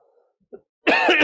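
A single sharp, harsh cough bursts out close to the microphone after a near-silent pause with a faint throat sound.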